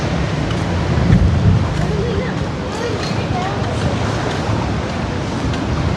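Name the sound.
strong wind at the Boracay mangrove viewpoint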